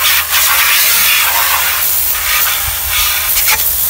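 A portable battery-powered high-pressure car washer at about 100 PSI sprays water in a loud, continuous hiss up close, with slight surges in the spray and no voices.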